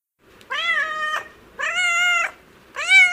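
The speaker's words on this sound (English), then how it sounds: "That's a domestic cat." A domestic cat gives three drawn-out, loud, close meows with short pauses between them, heard alone against silence.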